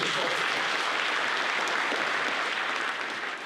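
Applause from a gathering of a far-right nationalist movement in Poland welcoming new youth members, a steady, moderately loud patter of clapping that continues evenly and tapers off slightly at the end.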